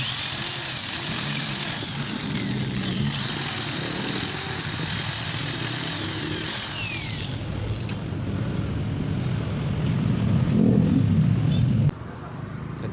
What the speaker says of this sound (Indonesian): dibor dari sini